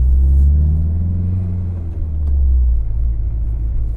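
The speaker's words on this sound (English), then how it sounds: "Okay, so the car rides pretty nicely though." Big turbo Dodge SRT-4 with a stiff gearbox drives along with a loud, deep engine rumble and road drone, swelling slightly as it pulls, with no talk over it.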